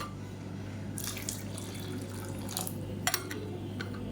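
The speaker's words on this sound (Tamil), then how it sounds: "இன்னும் கொஞ்சம் தண்ணி சேர்த்துக்கலாம்." Water poured into a simmering egg masala gravy in a pan, a couple of short splashy pours with trickling and dripping against a steady low cooking hum.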